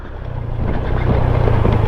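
A motorcycle engine strains hard on a road to Minalungao National Park in Nueva Ecija, a steady low drone that grows louder and rougher over a couple of seconds, heard close with no talk.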